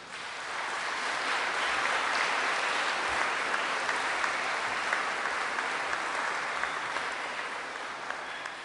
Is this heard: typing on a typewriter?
no